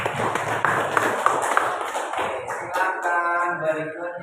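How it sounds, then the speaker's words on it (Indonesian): A classroom group claps for a student after a discussion answer, a burst of many hands at close range that thins into scattered claps as it fades. "Oke, berikan tepuk tangan untuk Anda."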